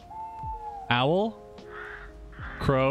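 Crow cawing in the puzzle video game Escape Simulator, two harsh, nasal caws with other bird calls between them, loud and close.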